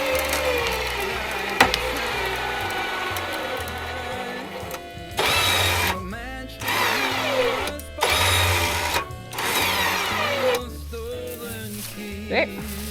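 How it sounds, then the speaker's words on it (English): A hefty winch motor runs in several bursts, whining and grinding as it pulls, with pauses between pulls and people talking intermittently nearby. "Pretty hefty winch."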